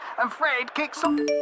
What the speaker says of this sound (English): that sound you just heard is a data warning notification